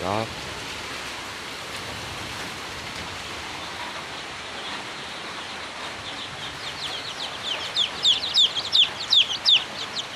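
Backyard chickens cluck and chatter on a rainy day, the steady patter of rain filling the background while the clucking grows louder and more frequent toward the end.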